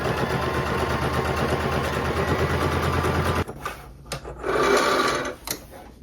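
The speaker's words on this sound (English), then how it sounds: "I'm going to go over this raw edge here with my standard sewing machine" A sewing machine zigzag-stitching over a raw fabric edge whirs in a steady, rapid run for a few seconds, then stops, leaving quieter shuffling and brief bursts of handling noise.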